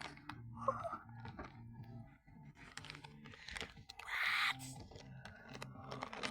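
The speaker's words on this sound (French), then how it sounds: "dégustation au croustillant poulet, frérot. Une bonne cuisse de poulet." Someone bites and chews a crispy fried chicken leg close to the microphone. The crunches are soft and repeated, with one sharper crackly bite partway through and faint background murmur.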